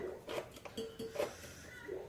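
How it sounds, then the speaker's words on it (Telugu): A cooking pot set down on a stove while making chicken noodle soup, with a few light metallic clinks and clatters of cookware, quiet and close, no talking. "ఫస్ట్ గిన్నె పెట్టుకున్నాను"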